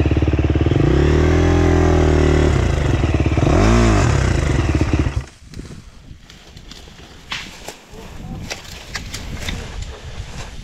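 A motocross bike ridden off-road on enduro terrain revs hard up and down nearby for several seconds, then cuts off. Quieter clatter, rustling and shifting sounds follow.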